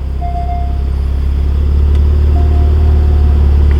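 A Porsche 911 Targa 4S idling after starting, a loud, close, steady low engine rumble that builds slightly and holds, with faint whines over the top.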